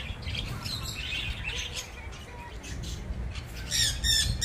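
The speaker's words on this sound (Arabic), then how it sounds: "شوفوا الطيور اللي هي عندهم الصوت واعره." Several birds squawk and chirp in bursts over steady outdoor wind rumble, growing louder and sharper near the end.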